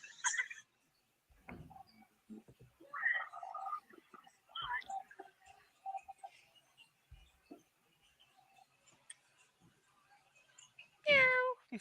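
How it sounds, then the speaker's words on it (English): A cat meows a few times, fairly faint at first and then one loud close meow near the end, amid scattered quiet speech and background chatter. "someone shut that cat up"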